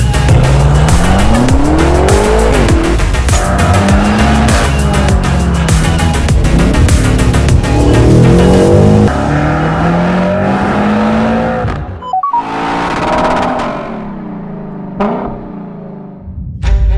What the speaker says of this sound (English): This is the BMW M8, but not only that, it's the competition.